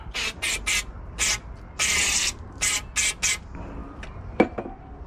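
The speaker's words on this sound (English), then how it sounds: "It is important to spray out the lines." Short bursts of spray clean out the catch can lines on a turbo engine setup. About eight quick hisses come in an uneven rhythm, followed by a few faint clicks and taps.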